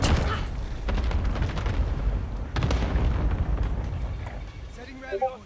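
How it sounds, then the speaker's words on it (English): Cluster strike bombardment in a video game, heavy booming explosions rolling in repeated bursts, with a fresh strong blast midway, under faint voice chatter. "Got your request. Cluster strike is active."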